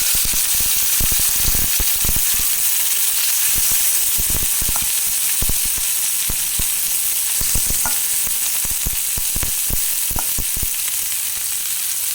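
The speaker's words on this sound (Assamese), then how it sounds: "এতিয়া মই বনাম মিছা মাছ ফ্ৰাই" Shrimp sizzle and fry in hot oil in a home kitchen, a steady close crackle with scattered sharp pops running throughout, loud and without speech.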